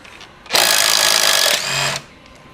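A power tool, such as an impact driver or drill, whirs loudly and close for about a second and a half while loosening a bolt during a steering rack change, then drops to a lower whine before stopping.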